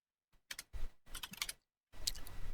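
Quick bursts of keystrokes on a computer keyboard as a command is typed, close and clear in a quiet room, three short clusters with pauses between.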